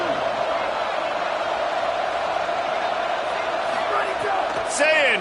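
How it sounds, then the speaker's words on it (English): A stadium crowd roars in a college football video game, a dense, steady wall of cheering and noise from a Red Raider home crowd on third down, with rising whoops near the end. "The Red Raider crowd rising to the occasion to help its defense on 3rd down."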